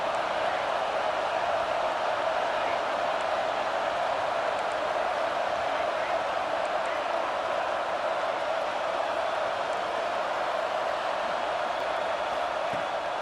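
A football stadium crowd at a South Carolina versus Alabama game in Tuscaloosa produces a steady, distant roar that holds evenly throughout with no distinct peaks.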